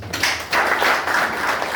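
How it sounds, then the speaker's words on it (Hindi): Burst of audience clapping at a business meeting, a dense, steady wash of many hands that swells after a brief dip and keeps going loud throughout. "समझो जबरदस्त ताली बजा दीजिए।"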